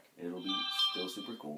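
A phone ringing with a bright, warbling electronic tone that sounds through the middle of the clip, partly under and between a man's nearby speech.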